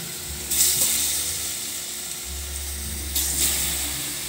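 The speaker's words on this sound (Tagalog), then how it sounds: "Saka mo iprito." Sugared saba bananas fry in a pan with a steady, close sizzle, and two brief bursts of louder hissing spit up over a continuous low hum.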